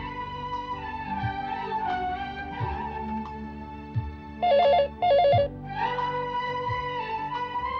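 A telephone bell rings in two short, loud bursts over soft background music in a domestic television drama scene.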